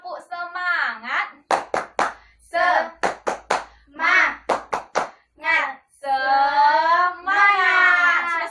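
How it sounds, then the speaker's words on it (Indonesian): Schoolchildren and their teacher perform a rhythmic clapping chant, sung voices alternating with bursts of sharp hand claps in a quick patterned rhythm, close and loud. "Tepuk semangat."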